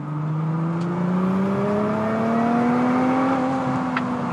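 Tuned 512 hp VAZ 2102 engine droning under strain, with a steady rising whine layered over a low hum, heard from inside the car at moderate, even loudness with no talk.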